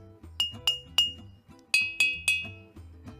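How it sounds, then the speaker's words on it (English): Water-filled glasses tapped in a short melodic sequence, six bright ringing clinks at different pitches, close and clear with a soft hum underneath. "can make music just with water in glasses."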